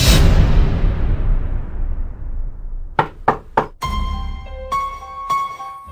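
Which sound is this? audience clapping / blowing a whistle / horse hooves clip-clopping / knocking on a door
knocking on a door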